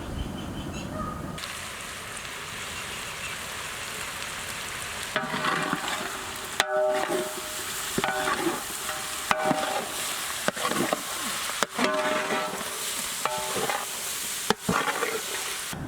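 Chicken fries in a pan with red chili powder, turmeric and salt, a continuous close sizzle broken by repeated bursts of stirring and scraping, with faint bird calls in the background.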